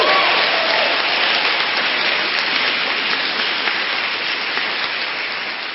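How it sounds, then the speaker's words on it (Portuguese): A congregation applauds Saint Raphael during an evening talk on the archangels, with dense, loud, even clapping that continues throughout and tapers only slightly toward the end. "Pode aplaudir São Rafael."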